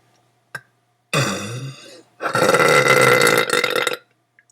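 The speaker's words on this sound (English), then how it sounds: "My really long burps." A long, drawn-out burp rumbles loudly and close, following a shorter croaking belch and a small click, then cuts off into silence.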